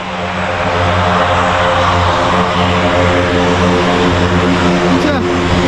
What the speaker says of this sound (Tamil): குட்டி ஃப்ளைட்டு அழகாக வந்தது.